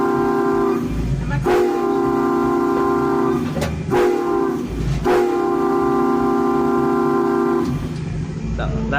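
A locomotive horn blows a railroad-crossing pattern at the RailGiants Train Museum: four loud, close blasts, two long, one short and a final long one, sounding over a low background hum.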